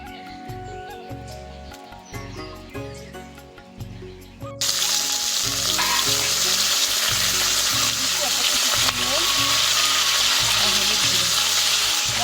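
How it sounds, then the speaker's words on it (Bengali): Potatoes frying in hot oil in a kadai: after a quieter start under background music, a loud, dense sizzle bursts in and holds steady and close to the end, with music continuing beneath. "সব কিছু নিয়েছি, এবার কড়াইতে দিয়ে দেবো তেল। আলুগুলো প্রথমে ভেজে নেব।"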